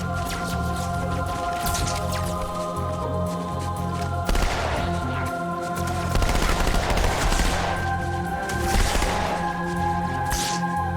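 Rapid SMG gunfire in Halo 2 crackles in sustained bursts over a steady game soundscape of music and ambient hum, with louder volleys toward the middle and end.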